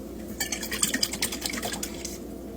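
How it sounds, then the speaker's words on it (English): Tomato juice poured and shaken into a stuffed pepper filling in a bowl, giving a steady wet splashing and clinking patter for a couple of seconds, close and moderately loud with no talking. "I'm going to add a little bit of tomato juice in with that."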